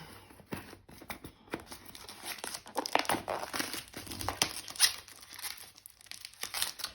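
Plastic wrap crinkling and tearing as a boxed oracle card set is unwrapped, a close, quiet run of irregular crackles and rustles with no talking.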